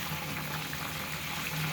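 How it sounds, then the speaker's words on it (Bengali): Taki fish curry gravy with tomato bubbling in a pan, a soft, continuous burble and hiss of boiling liquid, steady and near, with no voices. "ঝোলটা ফুটিয়ে আসছে"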